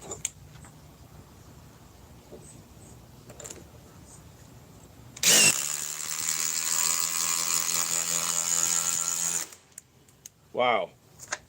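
A DeWalt power tool spins up abruptly and whirs loudly for about four seconds before cutting off, followed by a brief second burst; quieter talk and small noises surround it.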